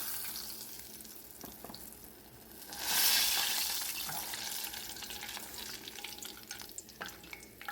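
Food frying in hot grease, a close, steady sizzle and crackle that swells briefly louder midway, then settles into a continuous hiss.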